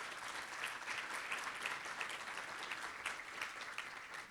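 Sustained applause from a keynote audience at a Keep PA Beautiful litter event, even and continuous claps throughout, moderately distant, with no voices over it.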